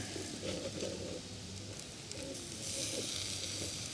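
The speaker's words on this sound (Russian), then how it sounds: "главный результат – мяско жарится" Shashlik meat on skewers grills over coals in a fire bowl outdoors, giving a steady soft sizzle and crackle with faint hiss throughout and no voices.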